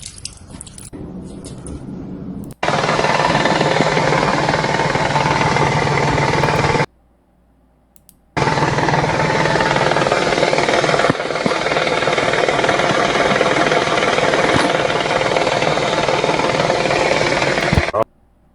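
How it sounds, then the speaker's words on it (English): A failing car drivetrain, likely a bad CV axle or internal transmission fault such as the differential, gives off a loud harsh grinding and clattering roar in two long bursts separated by a brief silence. "Sounds like it could be a CV axle or something internal in the transmission that's bad."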